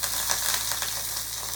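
Mustard seeds, dried and green chillies, onion, chana dal and curry leaves sauté in hot oil for poriyal, a dense, loud, close sizzle with a faint low hum beneath.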